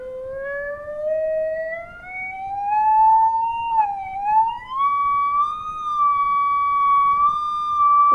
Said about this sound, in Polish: Na razie zaczynam od niskich dźwięków, a teraz będę stopniowo zwiększał wysokość dźwięku.